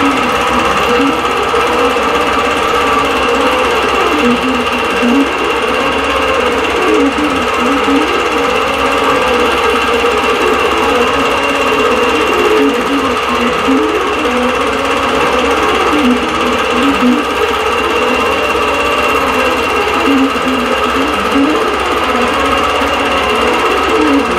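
A longarm quilting machine stitching a full row of a double bubble pattern across a quilt, a loud, steady rapid needle hum with rhythmic swells as the head travels, continuous and close throughout.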